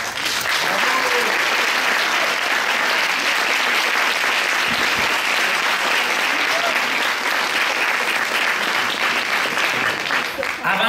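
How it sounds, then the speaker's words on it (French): A crowd gives loud, continuous applause at a regional science fair closing ceremony in Quebec, the dense clapping holding steady throughout. "On peut leur faire une bonne main d'applaudissements."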